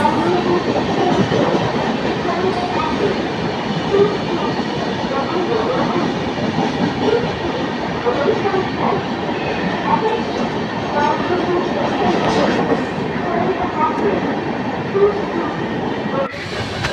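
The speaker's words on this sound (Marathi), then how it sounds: "गाईज आम्ही आता ट्रेनमध्ये बसलो दिव्यावरून" A train rumbles steadily along the rails throughout, a dense continuous roar with faint rhythmic clatter, heard from inside a carriage of a train from Diva toward Raigad, with some murmuring voices.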